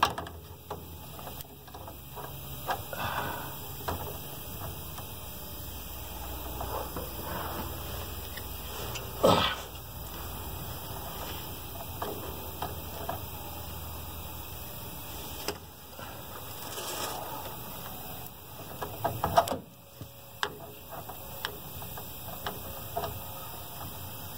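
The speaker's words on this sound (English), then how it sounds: "Get the socket to get onto the bolt there really well." Socket ratchet working on a rear shock bolt of a 2002 Sonoma pickup, intermittent clicking and metallic knocks close by over a steady background hum, with a few louder clanks.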